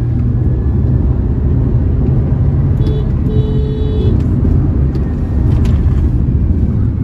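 An old Honda Civic drives on an Indian road at speed, its engine and road noise forming a loud, steady rumble, with a brief faint whine in the middle.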